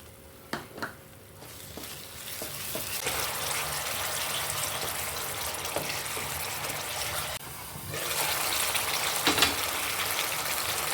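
Whisked yogurt poured into spices frying in oil in a pan, giving a loud, steady sizzle and hiss that swells with a fresh burst partway through, with a few stirring knocks and no talking.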